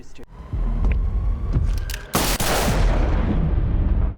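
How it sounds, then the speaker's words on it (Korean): Gunfire in an action drama set in the John Wick universe: sharp shots and heavy booms crack through a tense scene with rumble and overlapping voices, ending in a long loud burst of firing. "그대로 쏴 죽여버린 개미친놈 윈스턴"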